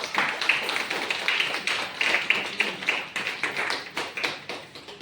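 Loud, dense applause from a crowd at a meeting and training session, a steady wash of many hands clapping throughout with rhythmic swells and no talking over it.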